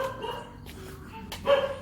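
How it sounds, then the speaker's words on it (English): A street dog barks from inside a bar on a quiet lockdown walking street in Pai, a few short barks at moderate distance over faint background noise. "He's barking from the safety. Barking from the safety of being inside the establishment."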